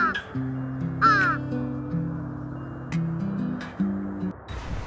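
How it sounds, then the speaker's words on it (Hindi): Crow cawing repeatedly, a few harsh calls spaced a second or so apart, heard over a held musical drone. "कौवा काऊ काऊ करता है।"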